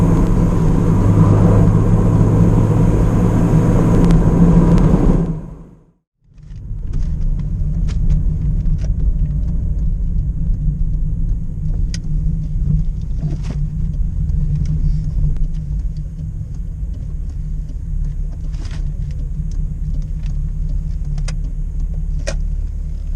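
VW Corrado VR6 driving on country roads, a steady low engine and road rumble heard from inside the car throughout, with a short drop to near silence early on before the even drone resumes.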